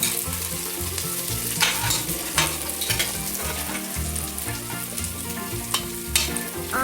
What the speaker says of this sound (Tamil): 2 பெரிய சைஸ் ஆனியனை இந்த மாதிரி கட் பண்ணி சேர்த்துக்கோங்க. கூடவே 4 கிரீன் சில்லி சேர்த்து நல்லா வதக்குங்க.